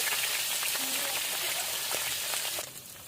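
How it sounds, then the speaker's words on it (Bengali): River fish and shrimp frying in hot oil, with a loud dense hiss that holds steady and then drops off sharply near the end. "মাছটা এক পাট ভাজা হয়ে গেছে, এখন উল্টে দেবো"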